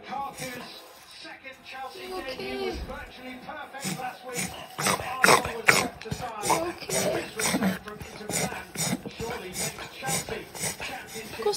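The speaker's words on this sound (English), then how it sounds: "Reverse sneezing is characterized by rapid and repeated inhalations through the nose, accompanied by snorting or gagging sounds." A dog reverse sneezes, giving rapid, repeated snorting and gagging inhalations through the nose in a fast rhythmic series, close and fairly loud, with a person talking over it.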